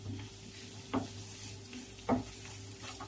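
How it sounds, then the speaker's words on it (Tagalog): Chicken pieces frying in a pan with onion and garlic give a soft continuous sizzle, broken by two brief clinks of a utensil stirring against the pan. "Lagay na natin ang ating chicken."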